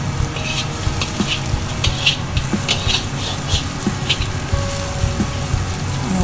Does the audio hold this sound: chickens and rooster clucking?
no